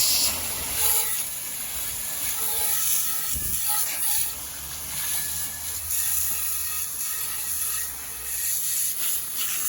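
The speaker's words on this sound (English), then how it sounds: "let's give everything another good rinse and see what we've ended up with." Water sprays steadily while rinsing a Lodge 15-inch cast iron skillet, giving a continuous close, broad hiss that barely changes for about ten seconds, with no talking.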